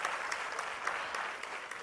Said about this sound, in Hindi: तो चलिए जोरदार तालियों से स्वागत करते हैं।